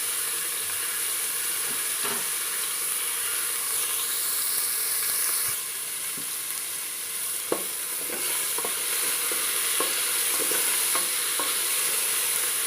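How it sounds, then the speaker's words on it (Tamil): Onions sauté in a hot pan for vegetable pulao, a steady close sizzle and hiss with occasional light stirring scrapes and taps throughout. "ரொம்பவும் வதங்கக்கூடாது, மீடியம் அளவுக்கு வதங்கணும்."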